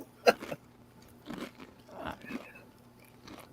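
Someone chews food close to the microphone, with a sharp crunchy bite first and then several softer, irregular chewing and crunching sounds spread over a few seconds in a quiet room.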